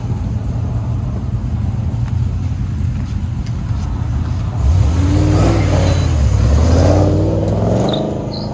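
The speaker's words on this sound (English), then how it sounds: "Camaro versus Camaro" Chevrolet Camaro drag cars at a Goodguys event in Pleasanton idle with a deep rumble, then launch off the starting line with a loud surge of revving engines that rises in pitch before fading.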